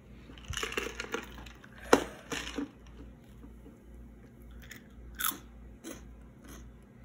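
Organic rice crackers being bitten and chewed up close, giving a run of crisp crunches with one sharp bite standing out, then quieter chewing toward the end.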